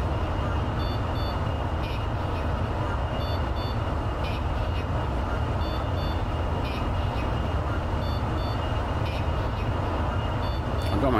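Repeated short electronic warning beeps from a C-17 cockpit in Microsoft Flight Simulator, sounding in small evenly spaced clusters over a constant loud engine and APU rumble for the whole stretch.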